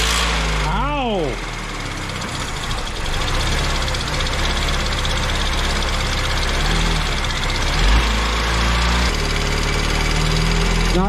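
A Mini Cooper engine runs at a steady idle after a coil pack repair, a continuous low rumble under brief voices of people nearby.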